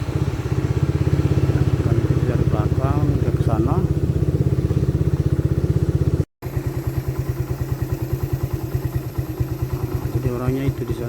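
A motorcycle engine chugs steadily and loudly throughout, ridden at night in the Foa area while following someone walking ahead, with a brief cut midway and someone talking over the engine.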